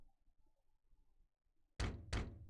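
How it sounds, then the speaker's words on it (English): Two loud, close knocks on a door in the Ace Attorney courtroom mystery game, sharp and evenly spaced, following a stretch of faint background murmur. "Knock knock!"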